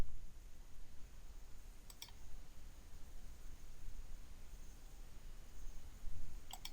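Two quick computer mouse clicks, faint and close, spaced several seconds apart over a quiet background hiss.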